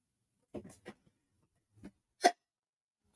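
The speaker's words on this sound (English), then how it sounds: "I got the hiccups." A person painting with acrylics hiccups several times, short sharp isolated hiccups with brief pauses between them in an otherwise quiet room.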